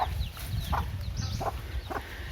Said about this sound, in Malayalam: ഇവിടെ ആദ്യം വിരിഞ്ഞിറങ്ങിയ അസീലും കുഞ്ഞുങ്ങളും ഇത് ഇവിടെയുണ്ട്